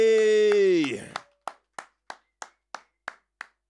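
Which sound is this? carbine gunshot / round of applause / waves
round of applause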